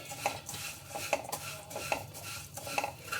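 Vermicelli is fried and stirred in a pan over a medium flame, a spoon clinking and scraping against the metal in a regular rhythm of roughly four strokes, close and fairly quiet.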